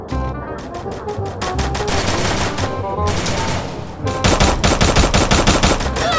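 Rapid gunfire bursts in the shooting game Free Fire, loud and close, in quick repeated volleys with brief pauses between them and heavier fire toward the end.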